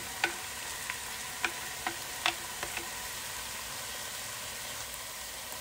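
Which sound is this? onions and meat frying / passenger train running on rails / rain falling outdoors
onions and meat frying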